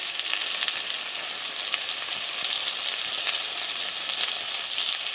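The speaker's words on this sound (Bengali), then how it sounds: "মশলার সাথে কচুটা একটু নেড়ে ছেড়ে নিলাম" Taro pieces frying with turmeric, salt and spices in a pan give off a steady, close sizzle with a hissing crackle. Faint stirring scrapes run through it, and nobody speaks.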